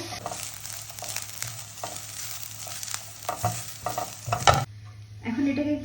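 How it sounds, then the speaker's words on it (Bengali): Dried fish (shutki) frying in mustard oil in a pan gives a steady close sizzle with stirring scrapes, ending in a few sharp clinks and a quieter crackle. "এটাকে এখন সুন্দর করে ভাজবো"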